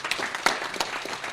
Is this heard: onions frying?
no